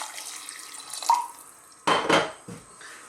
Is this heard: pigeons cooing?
no